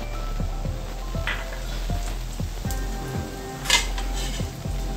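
Cumin and whole spices sizzle softly in hot oil in a pan for veg biryani, a steady faint crackle with light clinks of a utensil against the pan at regular intervals.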